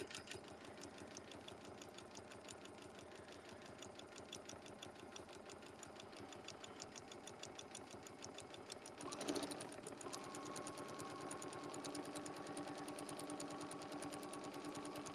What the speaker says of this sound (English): put my needle down, and stitch a straight stitch around here